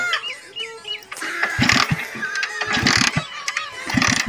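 A car engine cranks repeatedly in bursts, trying but failing to start, with a stuttering mechanical churn over a mid-loud outdoor background of chirping birds.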